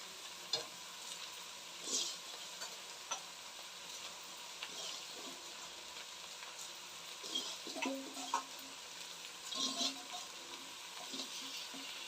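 Rice being stirred into masala in a pan for fenugreek-leaf rice bath, with a soft continuous sizzle and intermittent scraping and clinks of the spoon against the pan, close and fairly quiet, with no talk.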